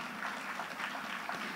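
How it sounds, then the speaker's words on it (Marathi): Audience applause fills a school gathering, a dense, even wash of many hands clapping together at steady loudness throughout. "आता या सर्वांसाठी जोरदार टाळ्या वाजवून आपण कृतज्ञता व्यक्त करूया."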